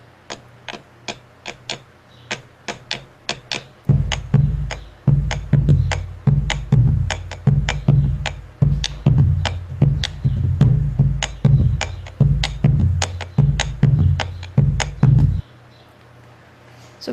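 A bombo legüero drum beats out a chacarera rhythm, with a row of sharp rim or shell clicks at first, then deep booming strikes mixed with clicks in a steady lilting pattern, loud and close, with no talk.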